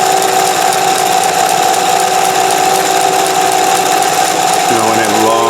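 A Neki sewing machine runs fast at steady speed, its dense, continuous mechanical whir loud and unbroken, with a brief shift in pitch near the end as it changes pace.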